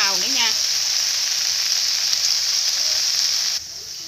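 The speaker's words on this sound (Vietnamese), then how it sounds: "cái hành và gừng vào để mình xào lên" Salted fish, pork, ginger and onion stir-frying in a hot pan give a steady, loud, close sizzle throughout, with a brief voice at the start and the hiss dropping slightly near the end.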